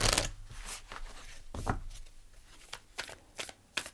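Tarot cards being shuffled and drawn for a reading, a quick rustling riffle up front, then a run of crisp separate snaps and slaps as cards are handled and laid down, close and fairly quiet.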